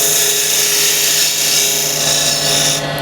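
A scraper on a woodturning lathe works a spinning resin and wood box, giving a continuous close, bright hissing rasp over the lathe's steady hum, easing slightly at the very end.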